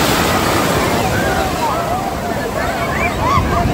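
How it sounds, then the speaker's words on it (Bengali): Powerful waves break on crowded Puri beach, with a constant loud roar of surf, wind buffeting the microphone and a murmur of crowd voices beneath. "কতটা দূর উঠে যাচ্ছে ঢেউগুলো দেখুন।"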